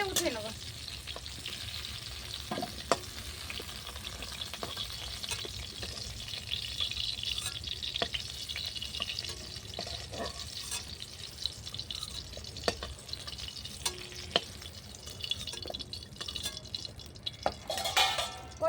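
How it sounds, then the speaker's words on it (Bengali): Potatoes and cauliflower frying together in oil over a clay stove, a soft steady sizzle with occasional stirring clinks and scrapes, fairly quiet and close. "আলু আর ফুলকপিটা একসাথে ভেজে নেব"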